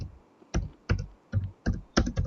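Computer keyboard typing in a quiet room during an online game: about six short clusters of quick key taps, close and fairly soft, spaced unevenly with brief pauses between bursts.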